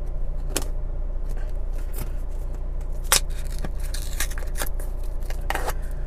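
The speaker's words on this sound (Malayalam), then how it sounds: "ഇതിൻ്റെ പെട്ടി ഒന്ന് ഡാമേജ് ആവാതെ തന്നെ ഞാൻ ഓപ്പൺ ആക്കുകയാണ്" A Samsung Galaxy A30 phone box is carefully opened, with sharp close snips, scrapes and cardboard rustles at irregular intervals over a steady low background hum.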